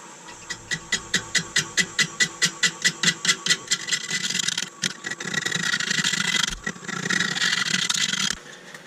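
A Nova Saturn wood lathe turns a square winged wooden bowl at 250 RPM. The tool knocks in a fast, even rhythm at first as the wings pass, then gives way to continuous rough scraping before stopping.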